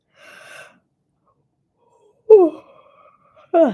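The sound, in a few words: yawn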